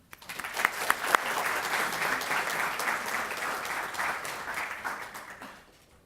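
An audience in a lecture hall at Scranton applauds steadily to welcome a speaker. The clapping swells quickly and holds a dense, even roar for about five seconds before it fades.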